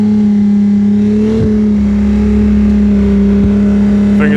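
A BMW M2 engine holds a loud, steady high-rpm drone near 4,500 rpm, close up and continuous, with a couple of brief dips in pitch and no talking.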